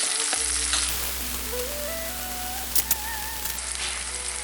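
Spring onions sizzling in hot oil in a pan, a close, dense steady frying hiss with a few brief clicks and stirring sounds and a faint tonal hum underneath, with no talking.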